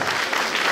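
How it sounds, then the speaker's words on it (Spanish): Loud, continuous audience applause fills the whole short stretch at a comedy show, a dense even wash of many hands clapping together with no gaps. "Fuerte el aplauso para el Mashi, por favor."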